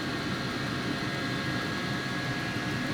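A steady, loud whooshing hum of air being drawn through the intake of a diesel heater, constant and unbroken throughout.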